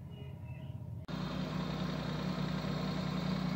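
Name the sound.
Maruti Suzuki Alto car engine idling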